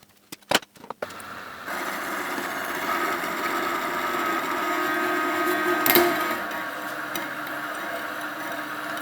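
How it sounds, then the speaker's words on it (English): Steady mid-pitched whir of a machine cutting slits and drilling holes in a custom top yoke for a Honda CB400F, starting after a few sharp clicks and knocks and running continuously with slight swells, close and moderately loud. "cut these slits in here and drill the holes for the M8 screw to clamp up on the stanchion"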